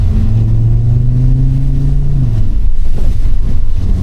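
An Audi RS3 engine with a Revo Stage 2 tune, still cold in warm-up mode, drones loudly and revs, its pitch rising then dropping away, with a rough low rumble continuing afterward.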